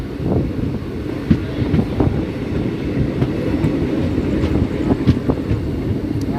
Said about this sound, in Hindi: सो गाइस यहाँ से गाइस हमारी ट्रेन एक्सेलरेट हो चुकी है।